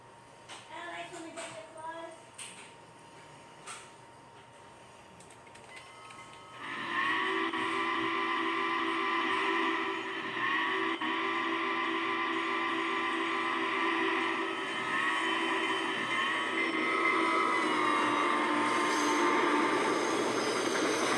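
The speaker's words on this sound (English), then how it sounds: "The train passes us at a crossing." Southern Pacific 4449 steam locomotive hauling grain hoppers, an open-top riding car and two cupola cabooses past a grade crossing; quiet at first, then a loud, sustained roar of rolling cars with wheel squeal lasting to the end.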